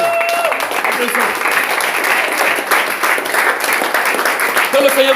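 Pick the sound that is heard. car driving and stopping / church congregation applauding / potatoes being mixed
church congregation applauding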